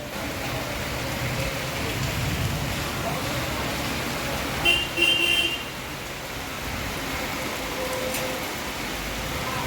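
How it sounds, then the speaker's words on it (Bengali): Steady rain hisses continuously in the background, with a brief faint chirp partway through. "ফাইনালি মানডেতেই কিন্তু বৃষ্টিটা এলো এই দেখো কত দিন বাদে বৃষ্টি"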